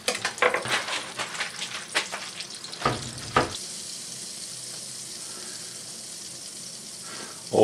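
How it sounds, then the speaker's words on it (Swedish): Meatballs fry in rapeseed oil and butter in a pan. Crackling sizzles and stirring clatter come first, then settle into a steady, close hiss of hot fat. "Och nu tänkte jag steka den här i både rapsolja och smör."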